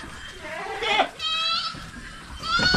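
A young, stunted goat that has lost its appetite bleats on a farm, giving several wavering calls in a row at moderate loudness, with other animal noise faint behind it.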